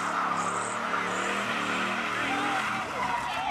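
A drifting car holds a continuous, loud engine roar with tire noise throughout, steady and close, with a voice talking over it.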